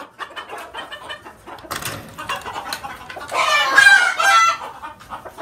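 Hen clucking inside a coop, a run of close, repeated clucks that build into a louder, more agitated burst of calls near the end.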